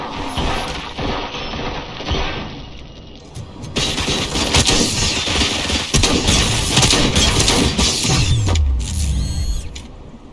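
Dense, rapid gunfire bursts from the first-person shooter RoboCop: Rogue City dominate the scene, loud and close, mixed with clattering mechanical impacts and booms, continuing almost without pause through the second half.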